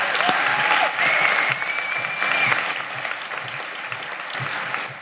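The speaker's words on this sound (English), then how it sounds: "One more round of applause for all the winners this year." An audience at a high school graduation ceremony applauds award winners with sustained clapping and some crowd noise. A few faint whistles rise over the applause, which dips slightly partway through and then carries on steadily.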